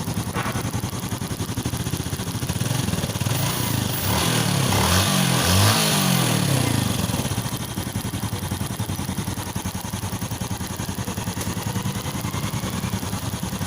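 A Yamaha Sight motorcycle engine with a stalling fault idles steadily and loudly up close, a continuous rough putter that swells slightly partway through, with no voices.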